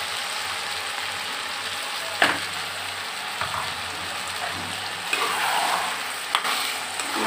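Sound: frying peas and potatoes with ground onion masala

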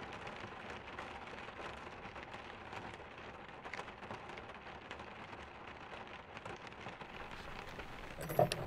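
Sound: rain falling on a Toyota Land Cruiser

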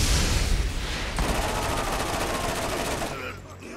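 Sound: gunfire in Borderlands video game

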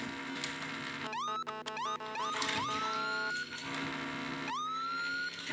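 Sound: police car siren in video game

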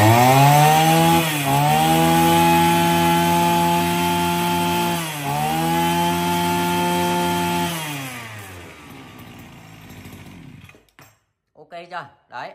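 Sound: H4 brush cutter engine running

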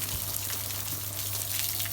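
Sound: water poured over wall before plastering

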